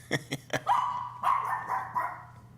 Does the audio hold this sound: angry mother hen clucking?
no